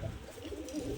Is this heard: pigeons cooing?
yes